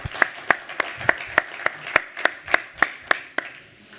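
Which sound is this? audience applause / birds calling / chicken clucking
audience applause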